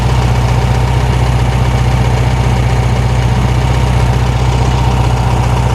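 A 1973 VW Thing engine idling close up, a loud, steady, even drone with a fast regular pulse, unchanging from start to finish with no voices.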